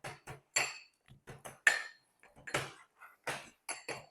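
Biscuits being bashed into crumbs for a no-bake cheesecake base, about a dozen sharp, separate knocks and thumps in an irregular rhythm, close and fairly loud, with no talking.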